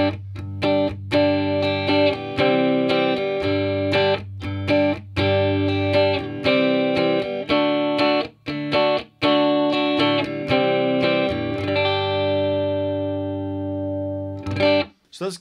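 Electric guitar through a Peavey Bandit 112 Teal Stripe Edition amp with its bright switch engaged, loud driven chord riffs with choppy stops and a long ringing chord near the end, played alone.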